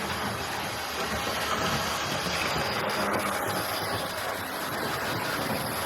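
A Hornby Mallard LNER tender-drive model locomotive running around a track, a steady close whirring rumble with light rail clatter throughout, no talking.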